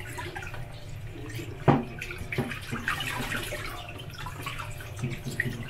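A whole mutton leg being washed under running water, a steady close splash and trickle from a tap with a sharper splash early on and continuous watery rushing throughout.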